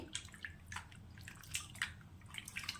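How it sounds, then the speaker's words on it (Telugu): Soft water sloshing and dripping with light splashes as potato slices are rinsed in a bowl, quiet and close. "వాటర్లో బాగా వాష్ చేసేసుకోవాలి"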